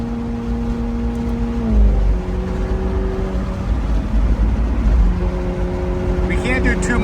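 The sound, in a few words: McLaren 720s Spider with Ryft exhaust accelerating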